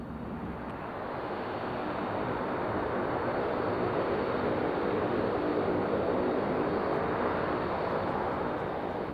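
Lockheed P-3 Orion naval patrol aircraft, its engines producing a steady, loud, broadband roar that holds constant for the whole stretch, with no voices.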